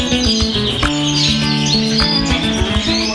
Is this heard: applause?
no